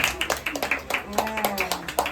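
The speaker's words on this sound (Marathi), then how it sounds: "टाळ्या, टाळ्या." People clap quickly and steadily at a child's fourth birthday celebration, with voices chattering over the applause.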